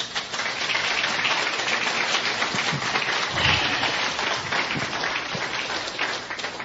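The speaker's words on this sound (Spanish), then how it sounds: "Den un aplauso fuerte al Señor" Church congregation claps loudly at a preacher's call to applaud the Lord, a dense, continuous roar of hands sustained evenly throughout.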